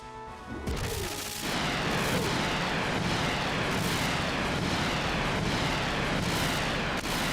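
Heavy gunfire and explosive booms from the mech strategy game Front Mission 3, a dense continuous barrage after a short quieter opening, with sharp repeated bursts cutting through a rumbling wash.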